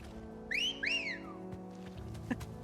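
In Final Fantasy XVI, a two-note rising and falling wolf whistle is given to summon a chocobo mount. It is clear and close, followed by faint game ambience and a soft tap.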